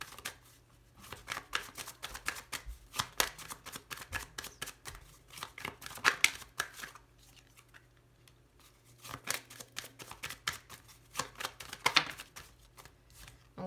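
Tarot cards shuffled, flicked and laid down on a table in quick bursts of soft papery riffling and slapping, close and quiet with brief pauses between flurries.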